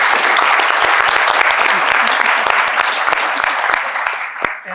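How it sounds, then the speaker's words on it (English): A close, steady round of clapping from an audience at a talk on Islam and AI ethics, dense and even, then tapering off near the end. "So I'll give them a round of applause"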